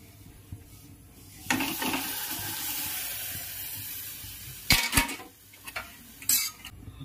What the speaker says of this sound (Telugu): కాగిన మిల్క్ లో ఈ సేమియా వేసేద్దాం.